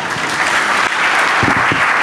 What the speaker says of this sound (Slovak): Ďakujeme veľmi pekne, veľký potlesk.